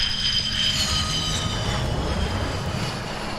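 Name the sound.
fighter plane engine in video game Ace Combat 7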